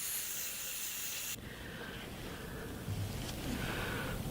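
Close, steady airbrush hiss sprays olive green paint onto a hobby model, one continuous soft spray with a brief shift in tone partway through.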